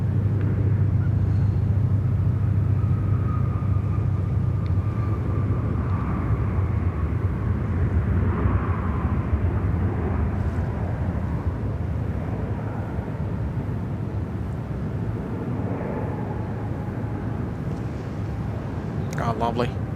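An airliner rolls past at Sydney Airport, a broad, steady low rumble of jet engines that stays loud throughout, with people talking over it.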